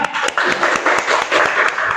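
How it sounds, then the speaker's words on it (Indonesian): A small audience applauds, the individual claps distinct and somewhat sparse in a brisk rhythm, with a voice or vocal sounds mixed in over the clapping. "tepuk tangan"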